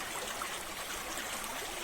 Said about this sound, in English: The water going under this bridge almost sounds like people talking